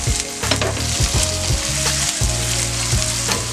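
Onions fry in a pan for egg noodles, a loud continuous sizzle up close with scraping stir strokes repeating through it.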